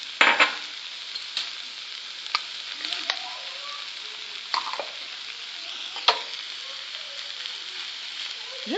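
Tuna with chopped coriander and parsley cooking in a pan for a Moroccan filling, with a faint continuous sizzle and scattered scrapes and taps of stirring, close and quiet.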